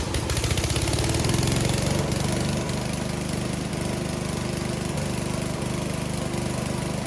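A radio-controlled wheeled grass cutter, the VTW550-90 with electric start, runs steadily with a loud, continuous engine drone, revving slightly at first before settling into an even idle, with no voices.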